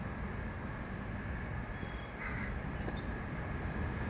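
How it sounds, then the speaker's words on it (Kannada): Crows caw outdoors, faint and somewhat distant, as scattered calls over a steady background hiss of noise. "ನೋಡಿ, ಇಲ್ಲಿ ಕಾಗೆಗಳು ಕಾಯ್ತಾ ಇದೆ."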